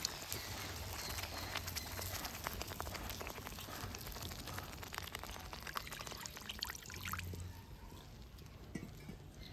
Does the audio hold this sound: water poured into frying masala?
yes